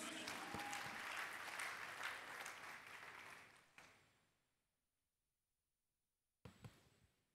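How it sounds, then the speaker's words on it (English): Church congregation clapping during a Sunday covenant service, a loud sustained wash of applause that tapers off and falls silent midway, then a brief burst of sound near the end. "Are you clapping for Jesus?"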